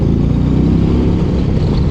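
A 2025 Harley-Davidson CVO Road Glide Raven Fade accelerating in road mode, a loud continuous low engine rumble with pulsing firing beats under a steady wash of wind.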